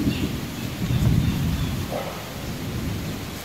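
Steady rain pours with a low rolling rumble of thunder swelling and easing beneath it, a continuous, fairly loud wash with no voices.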